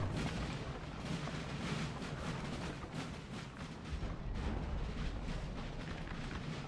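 Artillery fire in Napoleon: Total War during the Battle of Vauchamps (1814) booms in a rolling series of low, heavy shots layered over constant battle din, with no speech.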